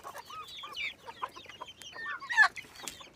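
Chickens in a net-fenced backyard coop cluck and chatter steadily and close by, with several overlapping calls and a louder burst of clucking near the end and no talking.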